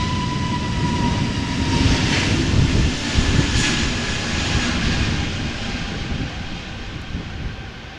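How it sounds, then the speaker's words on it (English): An easyJet Airbus A320neo at Amsterdam Schiphol on a crosswindy day sends out a steady engine roar, loud and fairly near, easing off gradually toward the end with wind-buffeted texture throughout. "This is an A320neo from EasyJet, going to London Luton."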